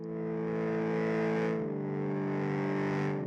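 A sustained, buzzy synth pad holds a rich chord that shifts midway, with a slightly distorted, atmospheric shimmer and no voices.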